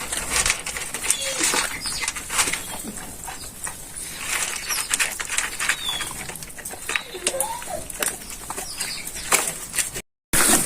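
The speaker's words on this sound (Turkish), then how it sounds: "serçeler inmeye başladı" Quick bursts of wing flutter and soft pattering from sparrows landing nearby, scattered over a noisy outdoor background with occasional chirps.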